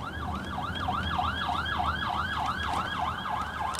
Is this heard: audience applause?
no